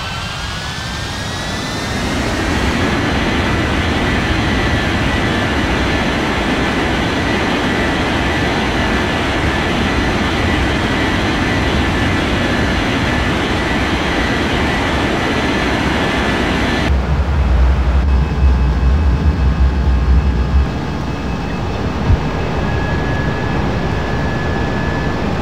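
An airliner taxiing in an air traffic control simulator game gives off a loud, constant jet engine roar that holds for the whole stretch, its tone shifting slightly partway through.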